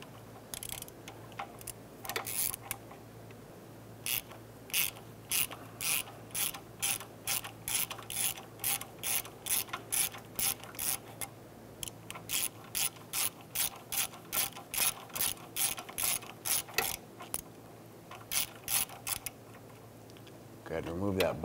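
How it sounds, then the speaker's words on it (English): A ratchet fitted with a 10mm socket, swivel and long extension works a bolt inside the frame of a 1999-2004 Jeep Grand Cherokee, giving repeated bursts of quick, crisp clicks in a steady rhythm, close by. "we're going to use a 10mm socket, swivel, and a long extension"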